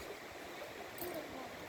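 The Chattooga River in South Carolina flows with a soft, continuous rushing wash of water, faint and even throughout.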